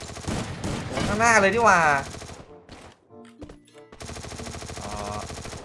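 Gunfire in the video game Free Fire: bursts of automatic shots from above and below, broken by short gaps, with a player talking over the firing.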